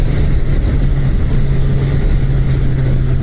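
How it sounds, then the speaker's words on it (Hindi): A Suzuki Hayabusa superbike accelerates hard on a highway ride from Delhi to Dehradun, its engine a loud, steady roar with a constant low drone and rushing wind noise, and no voices. "जबरदस्त एक्सेलरेशन है बाइक का।"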